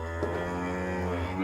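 A cow gives one close, sustained low moo whose pitch bends slightly through the call, heard clearly on its own.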